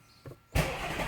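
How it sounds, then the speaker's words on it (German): A car engine cranks briefly and catches, settling into a steady, fairly loud idle after a quiet moment with a small click. "Gerade nochmal den Motor starten."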